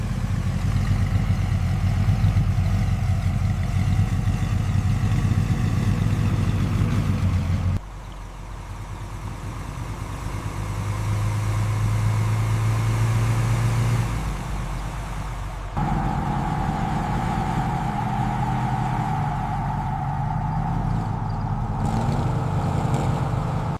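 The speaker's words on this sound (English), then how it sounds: "The final reveal and test drive phase begins with this, the fully restored 1986 Buick Grand National" Engine of a restored 1986 Buick Grand National with turbocharged V6 running steadily, a loud, close, continuous idle-like rumble that shifts in tone a few times with no talk.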